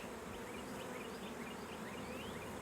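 A honeybee swarm buzzes during recapture, a dense continuous drone of many wings with individual bees whining past, steady and fairly faint, no voices.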